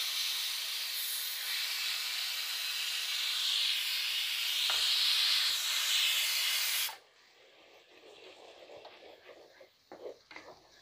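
Onion paste hisses and sizzles loudly in a hot pan for several seconds, then drops abruptly to a quieter background with scattered light scraping and clatter.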